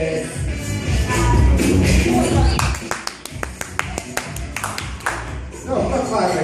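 Scattered clapping from a small open mic audience at the Salty Frog, a handful of separate claps rising out of steady crowd murmur and chatter, sparse and uneven rather than full applause.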